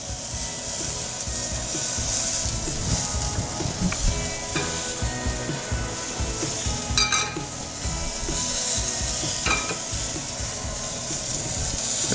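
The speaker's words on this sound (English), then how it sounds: "So now we're gonna cook our egg. Again, a little bit more oil." An egg frying in a little oil in a hot pan gives a steady, moderately loud sizzle, with occasional light scrapes and clinks of a utensil against the pan and no voices.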